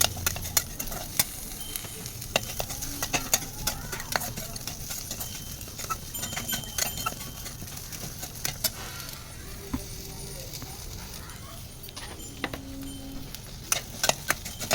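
Green chillies and pepper stir-fried in a pan, a low background sizzle broken by frequent sharp clinks and scrapes of a spoon against metal.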